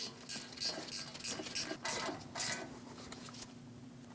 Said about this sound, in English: Snug down the bolts for the shield.